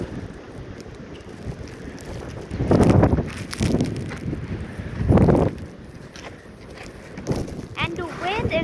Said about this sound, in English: You guys see that the wind is pushing all the snow?